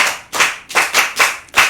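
An audience claps for a child at a children's programme, five quick loud bursts of applause in an uneven rhythm, close by, with no talking.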